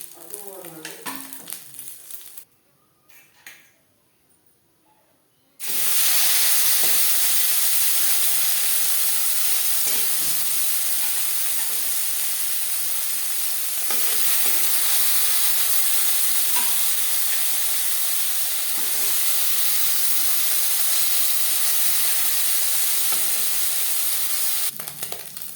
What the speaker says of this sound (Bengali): একটু কড়া করেই ভাজলাম, আপনারা চাইলে হালকা করেও ভেজে নিতে পারেন।